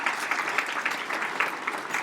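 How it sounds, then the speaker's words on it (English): Applause from a breakfast event audience thanking sponsors, steady, moderately distant clapping from a crowd, continuous and even for about two seconds with a voice faintly present over it. "Let's give a round of applause to our sponsors."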